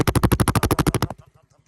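A Polaris Outlaw 50 ATV engine thumps in a rapid, even string of loud pulses close to the microphone for about a second, then cuts to a faint, fading sputter.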